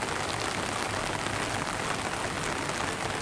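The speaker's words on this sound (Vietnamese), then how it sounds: "Đang quay thì trời mưa, rất nguy hiểm." Steady rain falls throughout on the set during outdoor filming of a bonsai tree, a broad, even hiss of drops on surfaces with no voices.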